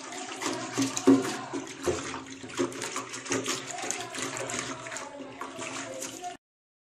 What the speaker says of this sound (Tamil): இதுக்கப்புறம் நல்லா தேய்ச்சி கழுவணும் நல்லா அதை அலசிடணும்